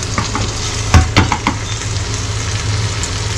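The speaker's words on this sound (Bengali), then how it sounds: "মাছটা যাতে ভাজা হয়।" Rui fish fries in hot oil in a tilted pan, giving a close, continuous sizzle broken by a few sharper crackles and stirring clatters.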